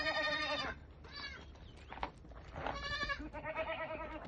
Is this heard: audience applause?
no